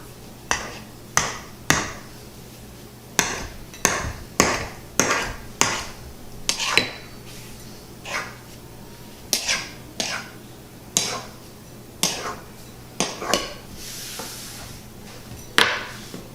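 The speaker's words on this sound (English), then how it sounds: "we're going to take the back of a butter knife and take that excess dough off" A butter knife's back scrapes and taps around the rim of a deep-dish pan, trimming excess pizza dough for a stuffed chicken Alfredo Chicago-style pizza, giving roughly two dozen sharp, close clicks in an uneven rhythm with no talk.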